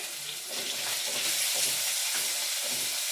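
Onions sautéing in a pan for mushroom curry make a steady, close sizzle and hiss that runs without pause, with faint scraping as they are stirred.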